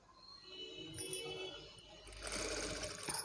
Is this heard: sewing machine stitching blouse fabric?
yes